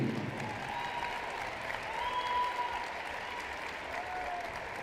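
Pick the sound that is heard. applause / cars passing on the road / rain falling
applause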